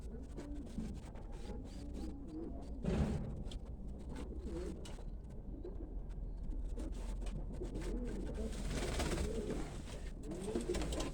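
Breeder's pigeons cooing in a loft, soft repeated throaty coos from several birds close by, steady and fairly quiet with faint background noise.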